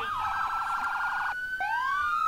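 A loud police siren wails in a roleplay video game, cycling through a rapid warbling tone, cutting off briefly, then rising again in a sweeping wail, with no talk over it.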